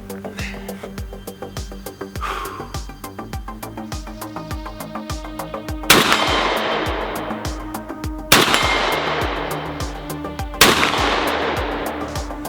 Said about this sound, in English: What I have here is a Beretta 1301. It has 3 1-ounce Federal slugs in it. We're gonna hit the target.